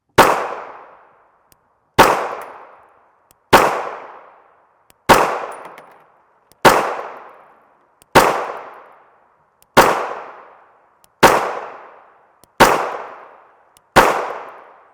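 AREX Delta Gen 2 Long Slide pistol firing 147-grain 9mm FMJ rounds, ten loud, sharp single shots spaced about a second and a half apart, each followed by a short decaying echo, with no talk.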